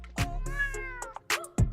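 A domestic cat meows several times in close succession, the calls clear and near, with no talk around them.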